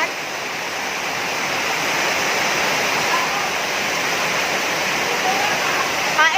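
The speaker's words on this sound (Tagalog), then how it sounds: "Narinig nyo ang ulan?" Heavy rain pours at night during New Year festivities, a dense, constant roar of falling water that fills the background without letup.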